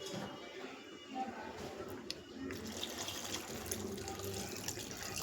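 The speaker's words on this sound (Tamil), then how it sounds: "கொஞ்சம் தண்ணி ஊற்றிக்கலாம்." Water pours steadily into a cooking pot in a home kitchen, a soft continuous splash at low level, with a voice speaking briefly over it.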